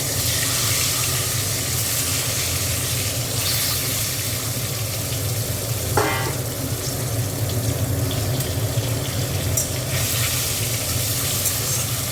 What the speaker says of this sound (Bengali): ডিমটা একটু ভেজে নেবো।